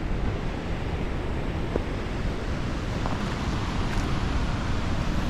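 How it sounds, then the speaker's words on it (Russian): The Sultan waterfall at Dzhily-Su in the Elbrus region in autumn, heard from a spot directly above it. A constant, dense roar of falling water with wind buffeting the microphone, and no voices. "мы находимся прямо над водопадом Султан"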